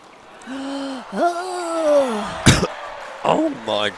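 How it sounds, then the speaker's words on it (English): A single sharp cough bursts out close by during a 5.0 men's singles final at the English Open, set among gasping and strained vocal noises with a voice around it. "I didn't mean to cough."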